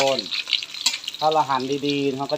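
Sausages fry steadily in hot oil while a voice talks over it, the frying crackle running underneath throughout.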